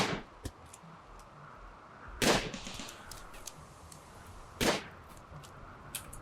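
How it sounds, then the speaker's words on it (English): A defensive turret fires in the video game Rimworld at an armored zombie, giving two sharp, fairly loud bursts a couple of seconds apart over faint background ambience, with smaller clicks between them. "The turret's gonna shoot on it"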